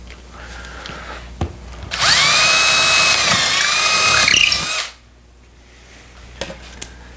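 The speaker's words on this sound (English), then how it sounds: "I'm going to drill these holes out and insert T-nuts" A power drill boring holes for T-nuts while making midcentury tapered wooden legs, one loud whining burst of about three seconds, near and alone, with quiet handling noises before and after.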